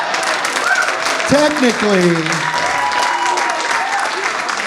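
A comedy special crowd applauds steadily and fairly close while a comedian talks over it, the clapping staying even throughout.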